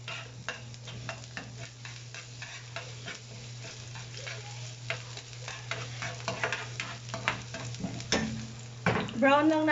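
Garlic fries in a pan over a quiet, steady sizzle while a spatula stirs and scrapes with repeated light clicks, growing busier toward the end with a clatter of utensils.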